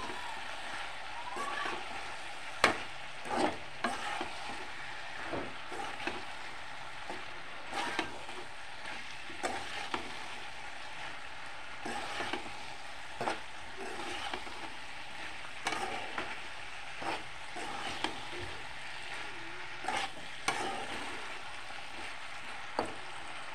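Malabar spinach frying with a salted hilsa fish head, stirred in the pan with a steady sizzle and repeated scraping clacks of the spoon against the metal at irregular intervals, close and continuous.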